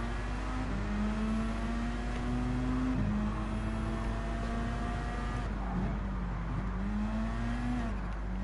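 Race car engines in a Gran Turismo 7 endurance race on a wet track drone loudly and continuously, with pitch climbing through the revs and dropping at gear shifts, up close and with no talking.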